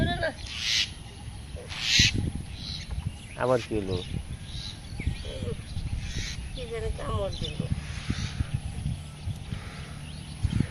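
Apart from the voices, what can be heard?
myna bird calling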